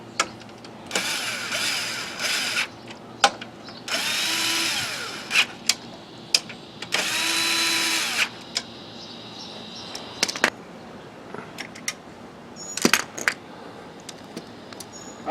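A power tool runs in short bursts while fasteners are tightened on a CVT install, with sharp clinks of tools and parts in between, close and loud.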